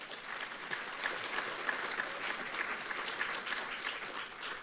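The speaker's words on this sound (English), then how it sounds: "So let's give a round of applause to them." Audience applause for diversity scholarship recipients at a library technology conference, a steady wash of many hands clapping that holds at an even level throughout.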